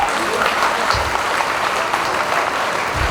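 An audience at a gathering promoting the Sanskrit language claps steadily throughout, a full, continuous applause with a couple of brief low rumbles underneath.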